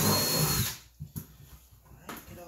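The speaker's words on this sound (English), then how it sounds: "let's go ahead and drill a hole in the bottom of this." A power drill bores a hole in the bottom of a plastic rainwater filter part for a chicken coop, running loud and close for under a second before stopping, followed by a few light handling knocks.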